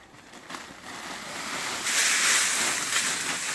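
Bags of dry leaves and plant remains are dumped into the bottom of a tree-planting pit outdoors, a rough rustling rush that swells and stays loud for a couple of seconds.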